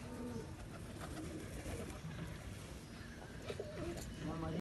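A large Salara pigeon at a breeder's loft in Khyber Pakhtunkhwa coos with faint, soft calls that sit low beneath someone speaking close by.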